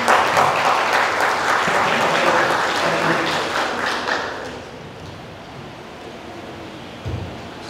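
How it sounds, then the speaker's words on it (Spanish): Audience at a science communication panel applauds a guest, a loud dense wash of clapping that gradually fades out, followed by a soft thump. "Un aplauso,"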